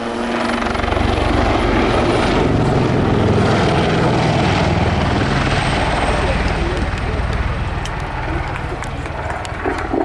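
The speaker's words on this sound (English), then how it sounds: "A very nimble and fast helicopter" Loud, close Wildcat helicopter at an air display, with rapid rotor chop and engine roar, steady throughout with a slight fade near the end.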